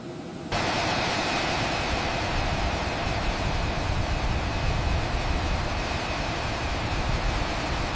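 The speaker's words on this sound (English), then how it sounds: "Cleared for engine start." An Airbus A380 engine spins up during a ground run-up, a sudden broadband roar that kicks in within the first second and holds steady and loud, with a faint whine riding over the dense rushing noise.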